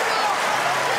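Arena crowd at a Big Ten college wrestling match, Michigan against Penn State at 184 pounds, roaring and cheering in a steady, dense wash of noise that continues without a break.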